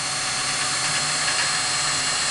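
A power drill whirs continuously at close range while it drills holes in plastic buckets for composting worms, a steady high-pitched motor sound with no voices.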